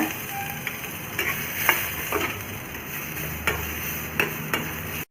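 Ginger sautés in a little oil for chutney, giving a soft continuous sizzle broken by a few sharp ticks and taps of a spoon against the pan. The clip ends abruptly, with no talking.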